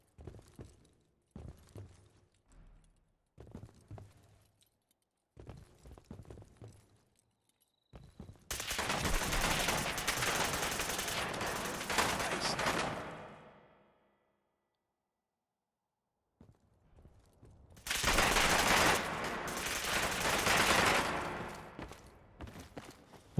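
A heavy gun in Fallout 4 fires in two long sustained bursts of loud rapid shots, each lasting several seconds, preceded by scattered single thumps and shots.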